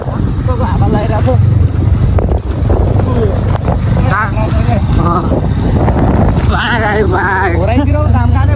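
Wind roars and buffets the microphone steadily while a vehicle rumbles along a forest off-road track toward Banglachuli, with people talking loudly over it the whole time.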